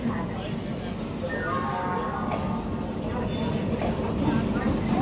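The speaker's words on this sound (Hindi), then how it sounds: "एक और लोकल ट्रेन का अराइवल हो गया है यहाँ पर।" Local train pulling into a busy Indian railway station, a steady low rumble of wheels and carriages building gradually, with voices murmuring in the background throughout.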